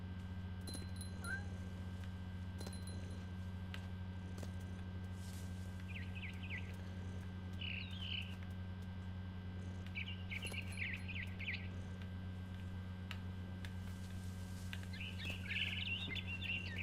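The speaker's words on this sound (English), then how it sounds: "You blasted bird, hold still." Small bird in the video game What Remains of Edith Finch chirping in short, faint bursts over a steady low hum, with several quick call clusters spread across the scene.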